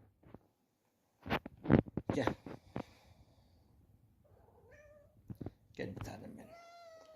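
A pet cat meows indoors, with a couple of short, rising meows near the end, while someone speaks affectionately to it in Turkish throughout.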